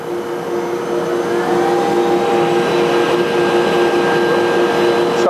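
A Holzer Arcus edgebander runs with a loud, steady mechanical whine and hum, and a rising tone enters as its axes move into position.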